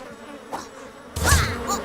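Bees buzz around a beehive in a video game, a short insect drone that swells in loudness partway through, close and without talk.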